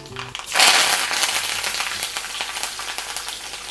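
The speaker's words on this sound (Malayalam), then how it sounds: "കടുക് പൊട്ടുമ്പോഴേക്കും കറുവപ്പല ഒരു 2-3 തണ്ട് എടുത്തിട്ടുണ്ട്." Mustard seeds and curry leaves hit hot coconut oil for a sambar tempering: after a brief quiet moment, a sudden loud hissing sizzle bursts up, then settles into a steady crackling fry.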